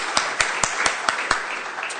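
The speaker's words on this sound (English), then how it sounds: "Let's applaud again." A conference audience at a TNC2008 session applauds after a presentation, with a handful of crisp, evenly spaced claps standing out over a quieter spread of clapping that thins out near the end.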